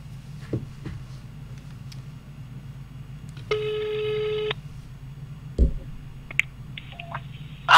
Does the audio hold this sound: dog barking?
no